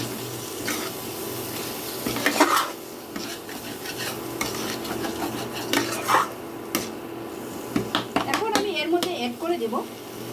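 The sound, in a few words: salt stirred into frying spices in pan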